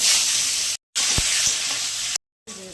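Steady hissing sizzle of potatoes and jackfruit seeds frying in hot oil with cumin and dried chilli, loud and continuous, broken by two short silent gaps, with a faint stirring knock.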